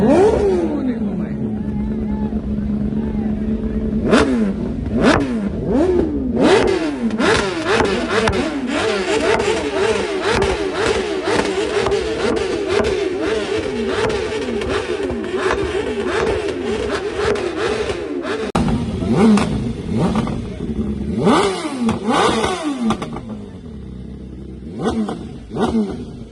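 Powerful superbike engines rev repeatedly at a superbike show, rising and falling in sharp whining bursts over a constant loud roar, with a crowd talking beneath.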